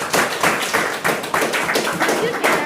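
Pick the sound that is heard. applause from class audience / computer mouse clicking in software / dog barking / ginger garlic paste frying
applause from class audience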